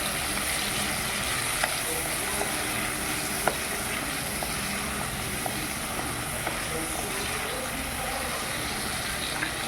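Native tomatoes cooking in a pan for a spicy prawn gravy, giving a steady dense sizzle and hiss throughout, close and even, with faint occasional clicks.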